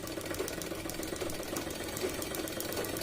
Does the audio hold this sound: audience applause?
no